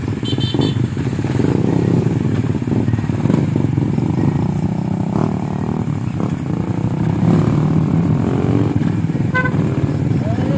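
Torque motorcycle engines rev and pull away amid loud traffic noise, with a horn tooting briefly and clattering in the background.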